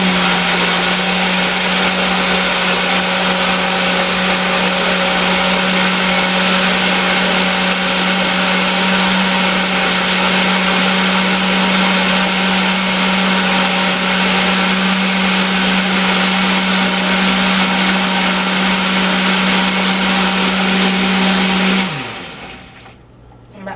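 A blender whirs steadily on its smooth setting, pureeing a mixed berry smoothie of cherries and blueberries, with a loud, constant motor drone that holds for about twenty seconds and then cuts off abruptly.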